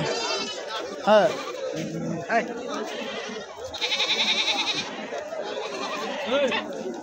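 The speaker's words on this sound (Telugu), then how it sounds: "అలర్ పెట్టిస్తాడు ఈ గొర్రెలు" Sheep bleat repeatedly amid a busy livestock market crowd, with people talking throughout and a wavering cry rising clearly near the middle.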